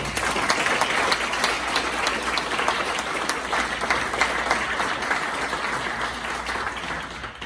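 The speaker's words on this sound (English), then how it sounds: "let's have a round of applause for Nancy, Doug, and John Murphy for putting this on." A sustained, even round of applause from the audience at the Denville Kiwanis 75th anniversary gathering, many hands clapping steadily at close range for the whole stretch before easing slightly at the end.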